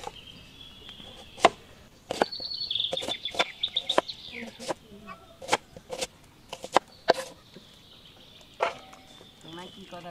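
Onions are chopped on a board in a village kitchen where boys are cooking noodles. Sharp, irregular knife strikes rapped out close by, with bird chirps and occasional chatter in the background.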